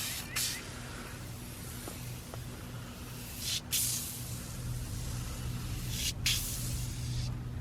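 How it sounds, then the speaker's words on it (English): Aerosol tire cleaner sprayed onto a vehicle's tire during detailing, three separate hissing bursts of a few tenths of a second each, close and loud over a steady low hum, with no one talking. "let's give the aerosol a shake, and we're going to apply it on the tire."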